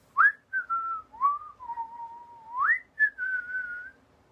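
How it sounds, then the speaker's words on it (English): A single person whistles while inhaling a short wavering tune, a few sliding and held notes with breathy onsets, close and clear with no other sound. "I can only whistle inhaling."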